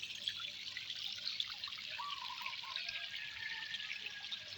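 Faint water trickling and dripping along a mountain trail, a soft, steady hiss with occasional small drips, heard alone at low level.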